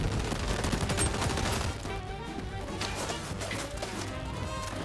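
Gunfire in the video game XDefiant, a dense rattle of rapid automatic shots, loud and close at first and easing slightly after a couple of seconds while firing continues.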